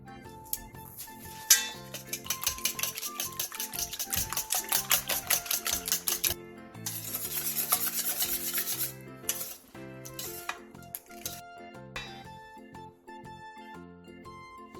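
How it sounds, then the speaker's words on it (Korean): Eighteen eggs with salt and minced garlic being whisked in a wide bowl, a fast steady scraping and clinking of the whisk against the bowl, close and continuous with brief pauses. "넓은 볼에 계란 18개와 소금 3분의 1, 다진 마늘 3분의 2를 넣고 골고루 섞어주세요."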